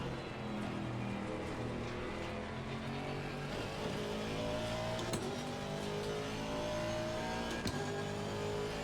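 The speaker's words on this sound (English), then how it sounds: "But the V8, it has this nice guttural sound. It feels right for a V8." A V8 race car engine roars in Assetto Corsa Competizione, holding a loud, guttural drone with rising and falling revs as the car accelerates and shifts, with no talk over it.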